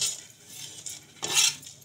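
A spoon scrapes and scoops roasted grated coconut out of a pan for spicy Puneri misal pav, light metallic clinks and scraping in two short bursts, close and without talk.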